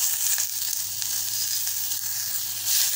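Tamarind and green gram mixture sautéing in a pan, a steady close sizzle and hiss that carries on unbroken with a few faint stirring scrapes.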